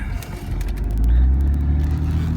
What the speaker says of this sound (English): And there's that lovely growl from that flat 6.